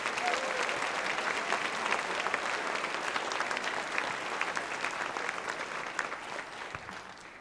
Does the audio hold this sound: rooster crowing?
no